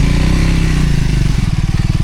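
A motorcycle rides along the road to Manang, its engine a loud, close, throbbing drone that rises and then pulses more roughly toward the end, heard alone.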